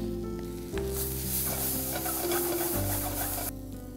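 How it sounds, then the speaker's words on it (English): Green chilies and ginger garlic paste sautéing with onions in a pan give a steady, fairly close sizzle, with low humming tones and a few stirring scrapes, and no one talking. "Now while onions are getting sauteed, I'll chop some green chilies"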